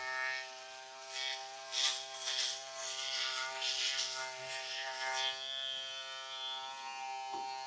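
HiBig Professional double foil electric shaver running and shaving, a steady close buzzing hum with brief rougher bursts as the foils pass over stubble, no voices.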